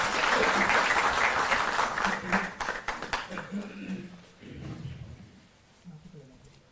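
Loud applause from an audience welcoming a speaker at a government event in Delhi, dense clapping that thins into scattered claps and fades, with a voice speaking over it.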